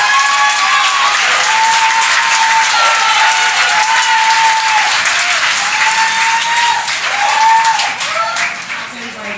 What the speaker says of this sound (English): I just want you all to really applaud her before she gets on the stage.